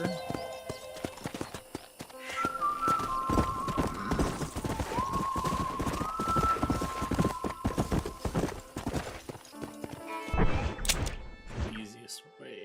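Hooves clip-clop in a quick galloping rhythm from a video game horse, close and steady, with a brief whinny partway through and someone talking over the action.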